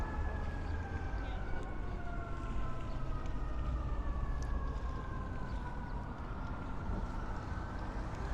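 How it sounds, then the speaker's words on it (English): Several fire truck sirens wail in the distance along Emmons Avenue in Sheepshead Bay, Brooklyn, faint sweeping tones rising and falling over steady outdoor street and waterfront noise. "Sounds like there's a lot of fire trucks coming this way."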